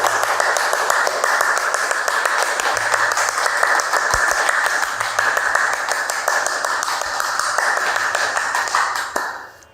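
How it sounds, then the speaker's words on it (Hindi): A group of people at a yoga session clap steadily together in a rapid, continuous rhythm of hand claps that goes on for several seconds before fading out at the end. "2 ताली अभ्यास।"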